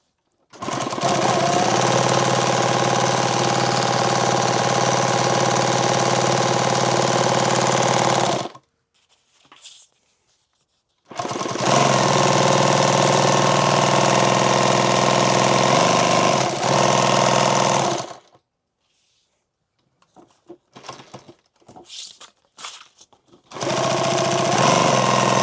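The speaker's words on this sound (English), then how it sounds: "Sew those center lines down." A sewing machine stitches the center lines of a bandolier in loud, steady bursts of rapid mechanical chatter, stopping and starting with short quiet gaps and some scattered handling noises between runs.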